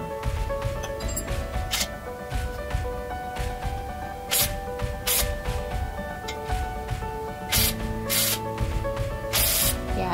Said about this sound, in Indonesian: Nah, itu kita semprot lagi penetrannya.